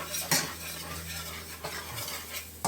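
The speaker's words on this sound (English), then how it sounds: "Keep scraping all those goodies off the bottom." A metal utensil scrapes browned bits from the bottom of a pan used to cook Swedish meatballs, several quick clinking scrapes spread over a few seconds against a soft sizzle, close and clear.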